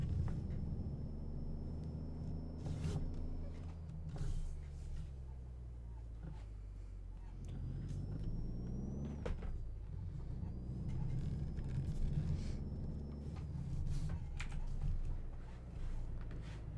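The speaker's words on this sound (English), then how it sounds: "let's get a listen to this motor real quick" Truck engine running in the American Truck Simulator video game, a steady low rumble rising and falling in pitch as revs climb and drop with gear changes, continuous and fairly close, with a thin whine above.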